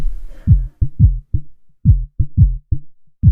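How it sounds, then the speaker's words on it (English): Sound run through the Auto Filter in Ableton Live, heavily filtered down to a muffled low thump; a series of short, close, rhythmic pulses at an even pace, playing alone with no talking. "if I use the filter, you can see that I'm just filtering the sound"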